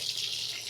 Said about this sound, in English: just jugging and gently-ish pouring over mash liquor back on top of the grain bed